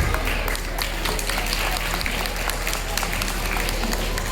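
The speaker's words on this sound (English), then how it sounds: "Please give them a big round of applause." An audience claps steadily at a school annual day after a young children's dance performance. The dense applause runs evenly throughout, fairly loud, with a faint murmur of voices beneath it.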